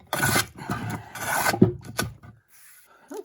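A hand plane shaving across the surface of a hewn wooden block, heard as close, rasping strokes in several bursts, then a quieter pause and one short final scrape.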